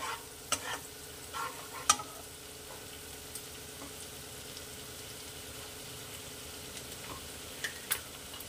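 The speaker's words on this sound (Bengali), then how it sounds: "একটু ভাজা ভাজা হয়েছে, পেঁয়াজটা একটু কালারটা চেঞ্জ হয়েছে, ট্রান্সপারেন্ট হয়েছে।" Chopped onions sizzle steadily in hot oil in a pan for a home-style paneer butter masala, with intermittent scraping and clacking of a stirring spoon; no talking.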